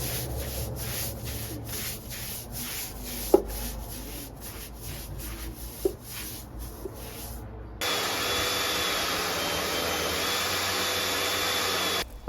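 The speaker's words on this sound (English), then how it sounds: "I rinsed it off with a pressure washer on a lower setting" A pressure washer on a lower setting rinses algae-treated garden slabs, starting as a pulsing hiss and then settling into a loud, continuous spray roar for the last few seconds, close up with no talk.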